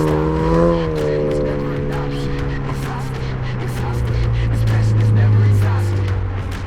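A Dodge Hornet GLHS car built up as a track car drives hard on a race track, its engine droning in a steady tone that drops and climbs again, with tire noise and bursts of talk over it.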